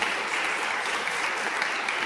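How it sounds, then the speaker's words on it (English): Audience applause at an online ideas-breakfast event with a TV presenter, a steady dense wash of clapping holding at an even level for the full two seconds with no break. "Big round of applause."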